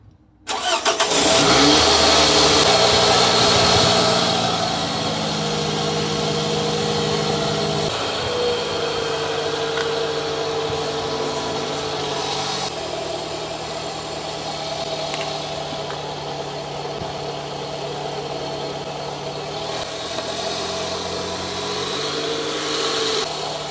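A 2006–2012 Toyota RAV4 2.4L engine cranks and catches, then settles into a steady idle, heard up close and loud and running alone after a valve cover gasket replacement.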